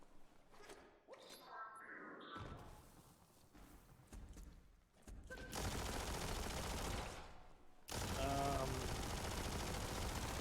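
Heavy bursts of gunfire in the video game Biomutant, loud and sustained, swelling into dense rapid volleys in the second half with whooshes and thuds mixed in, alongside game music and effects.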